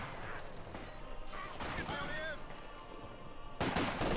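Machine gun fire in a Company of Heroes 2 match: bursts of rapid gunfire and battle noise crackle through a busy mix of game sound effects, moderately loud with a sharper burst near the end.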